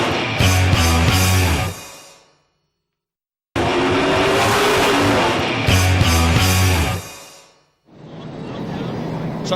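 European Late Model Series race cars on a 3/8 mile banked oval at Warnerton Speedway roar past loudly in bursts, with engine drones and tire noise, broken by short gaps of silence.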